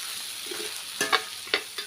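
Fresh homegrown tamarind and spices sauté in hot oil, a steady sizzle broken by a few sharp spatula scrapes and taps against the pan, close by with no talking.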